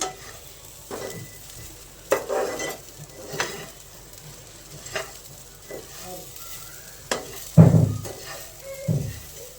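Seviyan (vermicelli) stirred in a hot pan, with a steady close sizzle and repeated scraping strokes that swell into louder bursts near the start and again toward the end.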